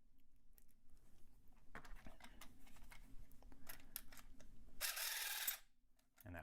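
A lock being picked with a tension wrench gives off faint, close metallic clicks and scratchy ticks in an irregular rhythm, ending in a brief louder rasping burst.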